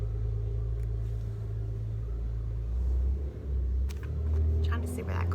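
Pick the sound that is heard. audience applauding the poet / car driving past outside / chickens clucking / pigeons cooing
car driving past outside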